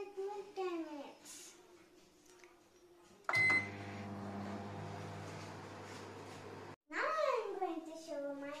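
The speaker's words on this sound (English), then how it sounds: "I will microwave it for 10 minutes." A microwave oven hums steadily for a few seconds while a cake bakes inside, starting abruptly with a beep-like tone and stopping suddenly, with someone speaking before and after.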